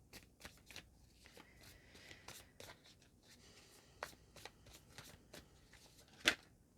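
Tarot cards being shuffled by hand on a table, a run of crisp riffling slaps and flutters with one sharper snap near the end, close and alone with no talk.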